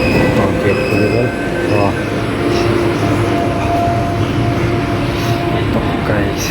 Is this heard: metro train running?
yes